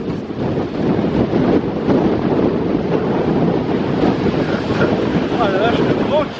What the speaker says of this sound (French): Oh la vache, le vent qu'il y a.